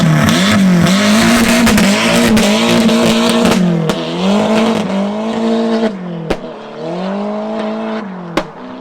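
A Mk1 VW Caddy with a turbocharged 1.8 20V engine and a bed-mounted exhaust drives close by, its loud engine note rising and falling through gear changes, with sharp pops between pulls.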